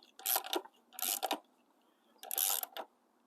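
A socket wrench ratchets on a bolt while fitting upgraded CNC stainless drop-outs to a Super73 e-bike, three short bursts of quick clicking close by, separated by brief pauses, with no talking.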